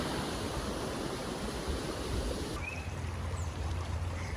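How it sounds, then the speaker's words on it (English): A flooded creek running high and fast after heavy rain, a dense continuous rushing and churning of water, loud and close, with no voices. "But I'll show you the other spot where this creek goes through. That is pretty high and moving."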